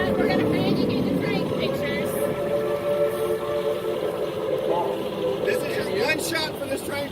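A train at Dollywood theme park passes with a continuous rumble and steady mechanical drone, joined by brief higher whistle-like tones toward the end, all heard at close range.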